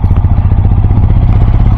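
A motorcycle engine rumbles loud and close, chugging steadily with rattling clatter while riding off-road toward Khardung La pass in Ladakh.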